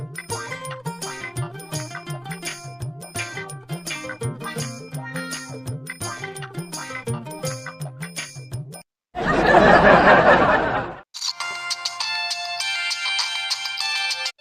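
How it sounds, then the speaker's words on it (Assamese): A tuneful phone ringtone plays steadily and loudly, breaks off for a short burst of harsh noise, then resumes with a brighter chiming tone. "ফোনটা উঠা ফোন আছে"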